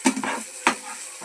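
Tomatoes cook in a pan for egg keema, giving a soft sizzle with two quick spatula scrapes in a brief moment.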